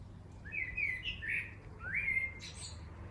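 Birds at dusk: a few clear, thin chirping whistles at moderate distance, two or three short phrases over quiet low background hum.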